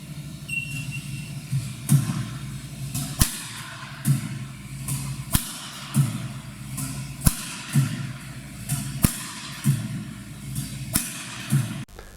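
Yonex Astrox FB badminton racket smashing shuttlecocks, about ten sharp cracks at a steady rhythm roughly every one to two seconds, close and crisp over a low background hum.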